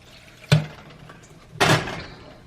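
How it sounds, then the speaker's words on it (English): Water added to thickening pork chop gravy in a pan, two short splashy pours about a second apart, each with a sharp onset and a brief fading trickle, close by and moderately loud. "Now it's time to add some more water."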